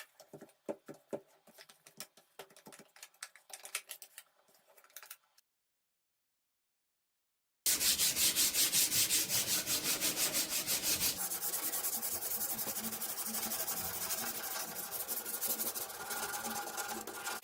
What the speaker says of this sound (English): Hand sanding is a test of patience and touch.